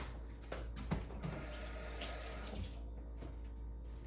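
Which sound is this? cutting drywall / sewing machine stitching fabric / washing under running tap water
washing under running tap water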